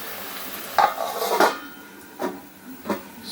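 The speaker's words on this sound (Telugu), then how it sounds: "సో మూత పెట్టేద్దాం." A lid goes onto a cooking pot of fish and eggplant curry. Several metallic clanks and knocks come close by, with softer scraping between them and no voices.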